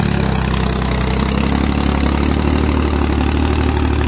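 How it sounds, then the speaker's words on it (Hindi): A Powertrac 445 tractor engine runs under load while pulling an 18-disc harrow, a loud, steady, close-up diesel drone with a constant low throb and no talking over it. "भाई चल लिया ट्रैक्टर"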